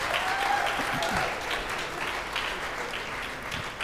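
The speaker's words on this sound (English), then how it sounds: "Please go give them applause." Audience applause rings out for performers who have just sight-read a new piece on a livestream, a dense steady clatter of many hands lasting throughout, with a faint voice or whistle briefly heard early on.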